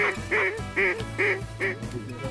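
A series of loud, nasal duck quacks, about five in quick rhythmic succession, close and clear over a low background hum, from ducks flying overhead at sunrise during a duck hunt.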